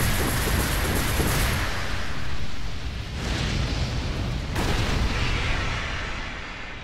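Nightmare Flame being destroyed in the video game Hollow Knight: a loud, dense roaring rumble fills the whole stretch, swelling and dipping with a couple of sudden shifts like bursts.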